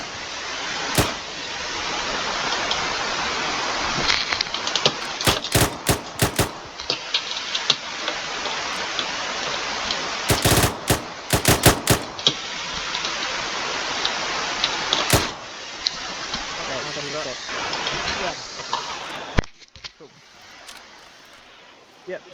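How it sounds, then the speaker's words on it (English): Rifle gunfire during a commando section shooting drill: sharp bursts of shots in clusters, loud and close, with wind noise and talk between the volleys. "Section, watch, shoot."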